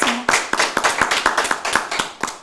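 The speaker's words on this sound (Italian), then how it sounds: "Applauso a Giovanna" A studio audience applauds, with sharp rhythmic handclaps close and loud at first, then continuing in a steady beat.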